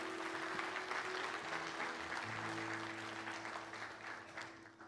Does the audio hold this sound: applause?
yes